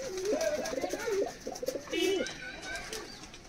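Kalduma pigeons coo close by in a loft collection, a few rolling, throaty calls in quick succession with faint chirps and background noise.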